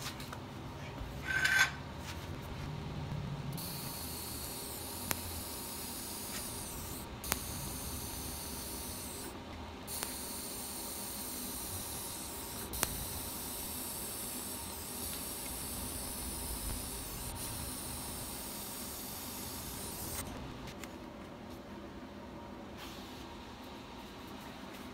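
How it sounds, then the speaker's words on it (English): Steady hissing buzz of a TIG torch fusion welding stainless steel, running continuously for most of the stretch at moderate level with a few brief clicks and slight shifts in tone, then easing off near the end. "I'm going to just do a little fusion weld down in there"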